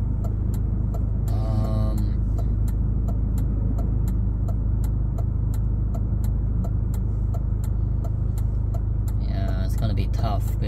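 Cars and buses move through street traffic on Main Street in Flushing, New York. A steady, loud engine and road rumble runs throughout under a regular ticking turn signal, with brief bits of voice.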